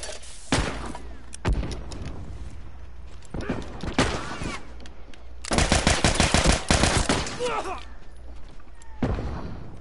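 Turret gunfire in the video game The Last of Us comes as loud bursts of rapid automatic fire, several separate volleys with a long sustained one in the middle, and a voice talks between them.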